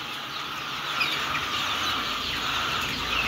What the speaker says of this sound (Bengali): দেখেন আমাদের এখানে শুধু ফার্মি মুরগি